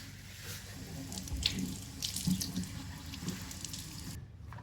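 A freshly harvested, very heavy golden-yellow watermelon is rinsed under a running tap, water splashing and drumming unevenly against the rind before the flow cuts off.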